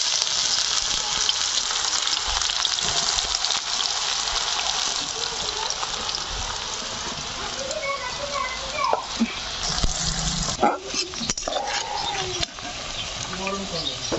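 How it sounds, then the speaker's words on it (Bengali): Onions frying in hot oil for a chicken dum biryani, a loud continuous sizzle with some crackle and occasional clatter, speech faintly mixed in toward the end. "পেঁয়াজটা ভাজার জন্য, একটু বেশি করে নিচ্ছি। তেলটা গরম হয়ে গেছে"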